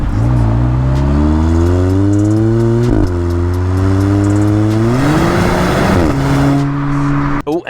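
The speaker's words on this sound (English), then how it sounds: "2 exhaust pipes, which do actually sound pretty damn good," The twin exhaust pipes of a 2022 Kia Cerato GT hot hatch rev hard through the gears, loud and close, the engine pitch climbing and then dropping sharply on each upshift.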